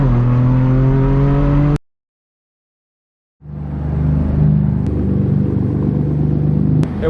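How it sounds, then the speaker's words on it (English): A straight-piped BMW M4 F82 with a full track exhaust, very loud and close: a deep, harmonic engine drone that cuts out abruptly, leaves nearly two seconds of silence, then returns with a raspy, rumbling roar. "this thing obviously has the full track exhaust, it's super loud"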